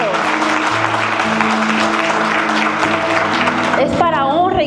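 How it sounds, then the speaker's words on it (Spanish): A church congregation applauds steadily under organ or keyboard chords, the clapping holding through to the end, when a voice starts speaking over it. "Aplaudan si me están entendiendo"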